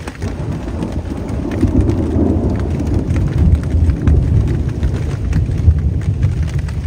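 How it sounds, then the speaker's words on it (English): A thunderstorm with heavy rain at a canoe campsite, dense steady rain hiss with a deep rumbling roll of thunder building and lingering through the middle. "We have thunder."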